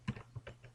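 Typing on a computer keyboard, a few quiet separate key clicks in a short burst, heard alone.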